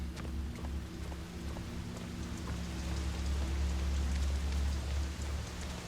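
Rain falling in the video game Fatal Frame: Maiden of Black Water, a steady soft hiss of rainfall with scattered drips, accompanied by a constant low droning hum, no talking.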